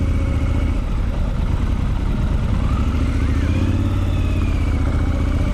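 A Triumph Scrambler 1200 XE motorcycle on the move gives a steady, fairly loud engine drone mixed with wind rush, holding an even level throughout.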